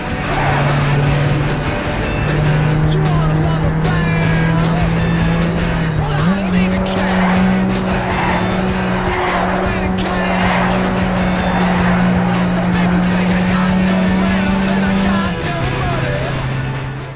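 Racing video game cars with a sustained engine drone shifting pitch through gear changes and tire squeal, a steady loud mix heard under someone talking.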